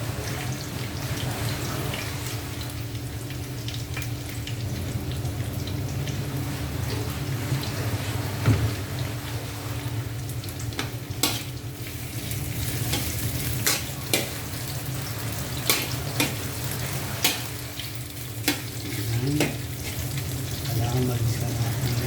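Ginger fries in a pan with a steady, close sizzle throughout, broken by occasional sharp clicks and scrapes of a utensil stirring against the pan.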